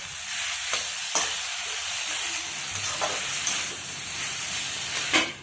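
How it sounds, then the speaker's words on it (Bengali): Pumpkin and bottle gourd leaves frying in a pan, a continuous close hiss and sizzle with occasional scraping stirs and sharp clatters of a spatula against the pan. "আরও এরকম ভেজে নিই।"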